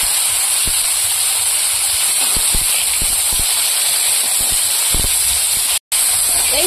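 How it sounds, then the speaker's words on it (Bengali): Soaked raw Pondicherry chickpeas hit hot oil with dried chili, bay leaf and five-spice seeds, giving a loud, continuous close sizzle and hiss with scattered pops, cut by a brief dropout near the end. "এবার ভিজিয়ে রাখা কাঁচা ছোলাগুলো দিয়ে দেবো তেলের উপর"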